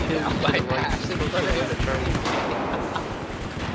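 Battlefield 4 gunfire in a dense, continuous battle mix, with repeated shots and booms layered over each other and constant background noise. A voice talks over the fighting.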